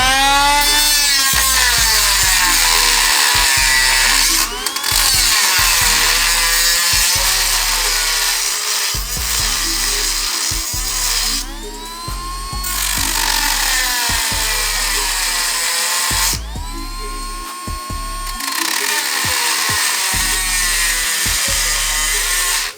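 A cordless Dremel rotary tool cuts metal while fitting an intercooler on an AWD K20 Honda Civic, a loud, steady high-pitched whine with bursts of grinding that repeatedly dip and surge, running close and continuous without talk.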